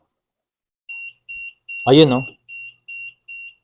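An Arduino Uno home-automation intruder alarm, set off by an unregistered RFID card, sounds six short, clear electronic beeps in a steady rhythm, with a brief spoken remark cutting in between the beeps.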